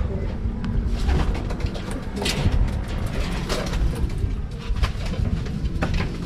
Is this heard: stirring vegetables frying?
no